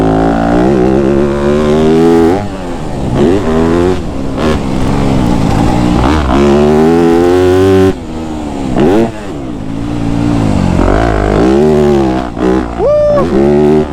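Yamaha YZ250F dirt bike engine while riding, revving up and down loudly with rapid throttle changes and shifting pitch, close to the rider and under steady wind noise.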